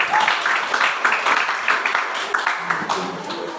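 Classroom applause from students, dense and steady clapping throughout, fairly close and even in loudness.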